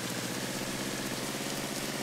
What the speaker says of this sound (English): I like the sound of the rain in the car.